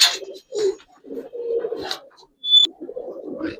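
Giribaz pigeons are released, with repeated low cooing phrases close by, a brief wing flutter and a short high squeak in the middle.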